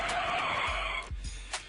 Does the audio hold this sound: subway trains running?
no